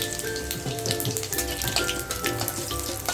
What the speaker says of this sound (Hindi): फोड़नी में हमने लिए है ये सूखी रेड चिल्ली और छोटा इलायची, थोड़ी सी दालचीनी और जीरा, बस ये हम डाल देते हैं।